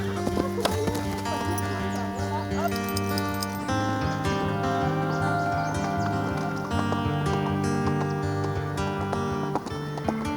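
Horses on a horse farm, with hooves clip-clopping at a steady pace, an occasional whinny and faint livestock sounds nearby, all fairly quiet, with a voice speaking softly in the background.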